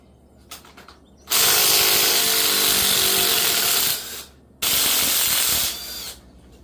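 Large bolts on a 5.3 Gen4 engine are broken loose with a power tool, two long loud whirring runs of a few seconds each with a brief pause between them, close up and with no one talking.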